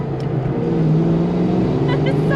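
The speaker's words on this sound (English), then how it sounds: "On this next turn, I'm gonna give it some gas and go and see what happens." A Fox Body Ford Mustang engine revs up while accelerating through a turn, a close, steady motor drone that rises in pitch, with a voice talking over it.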